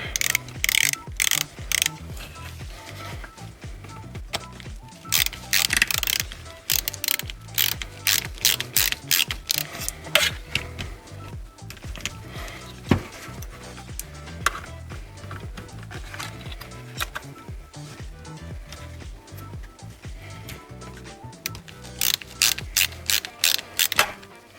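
Hand ratchet clicking as it tightens a nut on an HP DPS-1200FB server power supply, bursts of rapid close ratcheting clicks separated by short pauses, with faint handling knocks between them.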